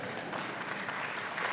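An audience bursts into applause during a talk about agriculture and resources, a dense, steady patter of clapping that holds at an even level throughout the short moment, with no voices over it.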